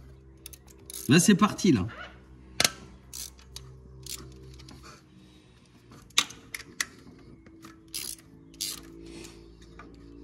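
Bolt being loosened during timing chain removal on an Audi S3 2.0L TFSI engine: ratcheting, clicking tool strikes and metallic knocks in irregular bursts, close by, with someone speaking briefly in French.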